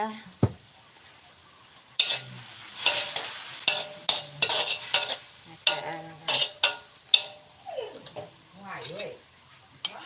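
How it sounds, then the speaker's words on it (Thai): Chinese kale (gai lan) stir-fried with fresh pork in a pan, with repeated scraping and clacking of a utensil against the pan over a light sizzle and a steady high hum. "ผัดผักง่ายๆทานกันนะคะ"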